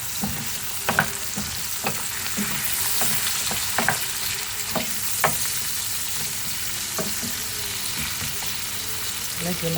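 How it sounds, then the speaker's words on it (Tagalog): Garlic and onion sautéing in a pan, a steady crackling sizzle with regular sharp scrapes of a spatula stirring, close and without talk. "magigisa na tayo ng bawang at sibuyas"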